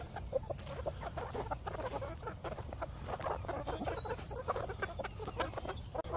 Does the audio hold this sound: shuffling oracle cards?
no